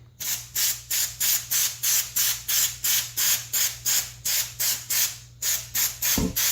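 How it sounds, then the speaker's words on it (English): A rapid series of short aerosol bursts of white lithium grease sprayed onto a chain, about eighteen in a steady rhythm, hissing loudly and close, with a low hum underneath. "Then you're just going to spray the whole chain."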